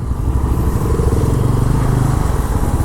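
A Bajaj Pulsar N160 motorcycle riding in 4th gear under 4000 rpm, its engine a steady, loud, close low rumble with no talk over it.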